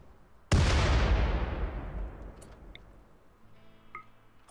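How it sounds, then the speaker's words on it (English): A single loud grenade blast in the colony-building game Rimworld hits with a sharp onset, then rumbles and decays over several seconds, followed by faint small clicks and pops. "Dude, you're still throwing multiple grenades."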